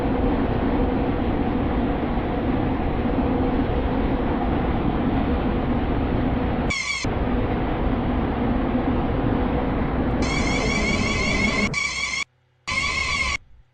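A Stepford County Railway game train arriving at Platform 4A, a four-coach Connect service to Port Benton: a steady loud rumble of rolling stock with brief bright tonal chimes toward the end, then abrupt cuts.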